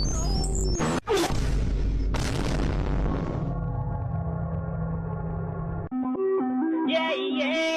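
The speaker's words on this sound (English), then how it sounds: "What is that explosion sound?" A deep, booming explosion sound effect bursts out loudly, is followed by a second hit, and fades into a low rumble before electronic tones take over. No one speaks.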